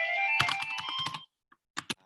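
Quick bursts of keystrokes on a computer keyboard, a dense run followed by a short pause and two final taps, close and clear with no talking.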